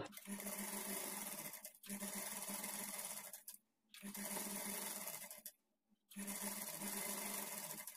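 A sewing machine runs an edge stitch along the waistband strip of a blouse, humming in three long continuous runs broken by two brief stops, steady and moderately faint, with no voices.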